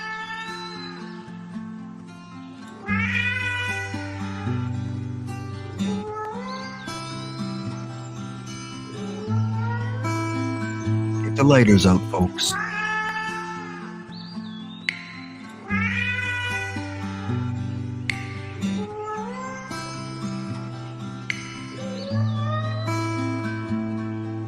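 Cat meowing in a sung, melodic way along a tune, over loud backing music, with a burst of strained caterwauling midway and a brief spoken line heard.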